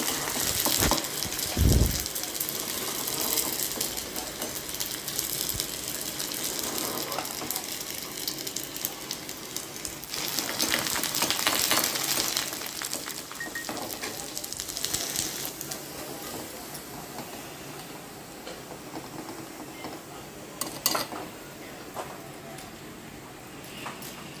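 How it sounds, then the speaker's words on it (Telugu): Rice flour janthika vadiyalu fry in oil over a medium flame, giving a steady, fairly quiet sizzle that swells and fades for about twenty seconds, with occasional clinks and stirring noises. "ఆయిల్ వేసుకొని మీడియం ఫ్లేమ్లో మాత్రమే వేయించుకోవాలండి"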